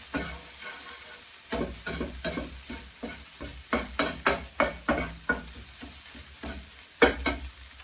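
Food browns in a hot pan for a 1940s-style mashed potato and breadcrumb dish, with steady sizzling broken by repeated scraping stirs at a quick, uneven rhythm, close up and with no talk.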